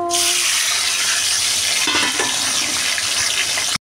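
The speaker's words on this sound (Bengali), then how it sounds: "তেলটা আমার এসে গেছে, মাছগুলো এখন দিয়ে দেবো।" Fish frying in hot oil in a wok, a loud steady sizzle filling the whole clip with a brief crackle of spattering near the middle, close and continuous with no talk.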